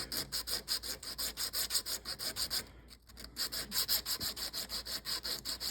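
A blank is sanded by hand with sandpaper, making a close, steady back-and-forth rasping in a fast, even rhythm that pauses briefly in the middle and then resumes, with no talking.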